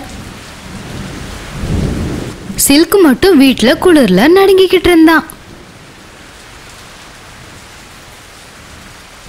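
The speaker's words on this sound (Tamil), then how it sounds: "புயல் காரணத்தினால மழை ரொம்ப வேகமா அடிச்சுது" A heavy storm with a low thunder rumble leads into a steady hiss of hard rain, with a voice speaking briefly over the downpour before the rain continues alone.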